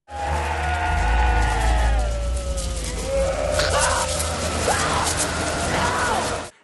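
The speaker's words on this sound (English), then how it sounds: "That is the sound of babies crying slowed down." Low, drawn-out wailing cries of babies, slowed and deepened into eerie moans, swell over a heavy rumbling drone for several seconds.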